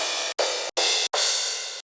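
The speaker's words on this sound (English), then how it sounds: "in the Drum Hero 3 folder, we have some nice crashes" Crash cymbal sample from a Drum Hero 3 drum library, struck four times in quick succession, each hit a bright, washy, full-band splash cut short before the next, the last ringing slightly longer.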